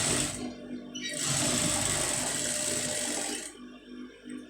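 Sewing machine stitching a folded fabric neck piece for a garment front, a close, loud, steady whirring run of a few seconds with brief quieter pauses before and after.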